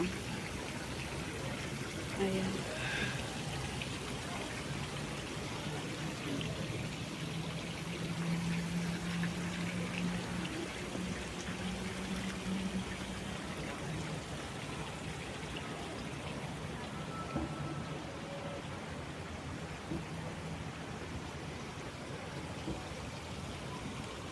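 A steady, even hiss of spraying water from garden showers at Nan Lian Garden, Diamond Hill, Hong Kong, runs throughout like fine jets, with faint background sounds mixed in.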